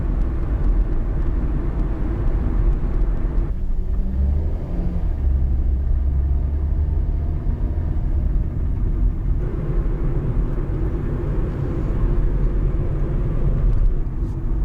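A car driving on a road on the outskirts of Derbent in southern Russia, a steady loud low engine and road rumble heard from inside, continuous for the whole stretch with no talking.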